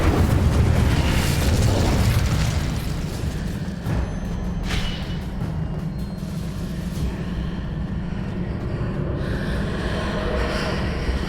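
Hogwarts Legacy spell effects on the Nintendo Switch: a dense, rumbling roar of magical blasts and bursts, loud at first and then settling into a sustained whooshing wash with a few sharper crackles, no talking.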